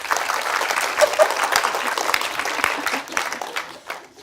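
An audience at an entertainment masterclass breaks into loud, sustained applause, dense clapping from many hands that holds steady and then begins to thin out toward the end.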